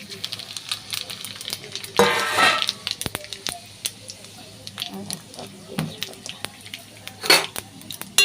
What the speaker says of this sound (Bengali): তার জন্য এই যে তেল দিয়ে দিচ্ছি কড়াই